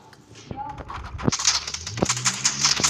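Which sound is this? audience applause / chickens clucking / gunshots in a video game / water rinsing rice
gunshots in a video game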